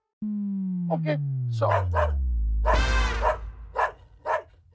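A dog barks in a few short yelps and bursts beside a comedic Hindi household scene, with people talking over and between the barks at close range.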